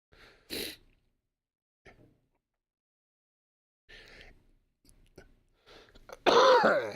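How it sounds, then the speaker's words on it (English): Several short, isolated coughs and throat clears from a podcast host spread across a quiet stretch, ending in a louder, closer cough. "all of a sudden my cough decides it wants to show up"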